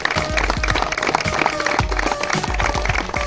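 Crowd applause at the trophy presentation of a Surat region ITI staff cricket tournament, dense and sustained clapping from many hands with a faint murmur of voices under it.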